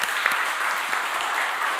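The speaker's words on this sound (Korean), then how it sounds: "인사할 때 여러분 큰 박수 한번 크게 해주시죠." A church congregation at a Sunday worship service claps together in a full, continuous round of applause, dense and steady with a few louder claps standing out, heard alone without talk.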